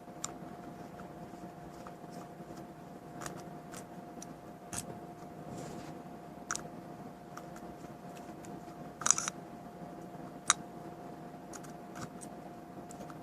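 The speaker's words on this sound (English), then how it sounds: "And simply unscrew this Canon EFS mount. Unscrew all the screws." Small screws being turned out of a Canon EF-S lens mount, faint scattered clicks and light metallic ticks over a steady hum, close and quiet.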